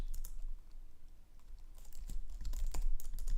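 Code is typed on a computer keyboard in quick, uneven bursts of clicks, sparse at first, then denser and louder toward the end, with no talking.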